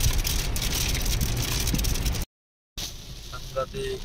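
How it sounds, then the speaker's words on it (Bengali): Heavy rain roars in a dense, steady hiss, then cuts out abruptly, returning quieter with faint scattered sounds. "এত বড় বড় বৃষ্টি, ঝড়ি বৃষ্টি, আর এত স্পিডে হচ্ছে"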